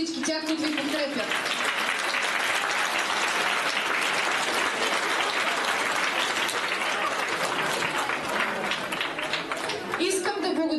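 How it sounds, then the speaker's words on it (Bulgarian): Crowd at a youth talent tournament award ceremony in Stara Zagora applauding the parents, loud sustained clapping throughout, with a voice speaking briefly at the start and end. "Аплодисменти за всички тях, които ви подкрепят"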